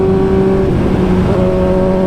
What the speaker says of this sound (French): histoire de faire chauffer un peu la bécane